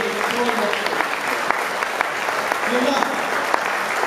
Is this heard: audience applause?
yes